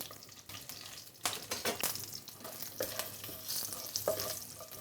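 Whole spices frying in a pan, including cumin seeds, black peppercorns, and green and dried chillies, giving a steady close sizzle with scraping stirs and a few sharp clinks, alone without talk.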